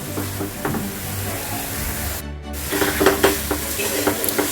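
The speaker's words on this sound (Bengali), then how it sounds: "আমি এটাকে প্রায় 5 মিনিট মতো অল্প অল্প করে জল অ্যাড করে ভালো করে কষিয়ে নেব" Spices for egg lababdar sauté in a pan over a raised gas flame, sizzling steadily up close. Light stirring scrapes break through toward the end, and no voices are present.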